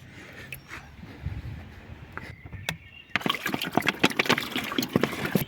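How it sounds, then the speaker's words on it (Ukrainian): Water poured through a cleaned body drain on a Renault Megane 3 Scenic, starting as a faint trickle and turning into a louder, close, splashing run of spatters and drips for the last few seconds. "Тепер візьмемо трохи води і перевіримо, як вона біжить."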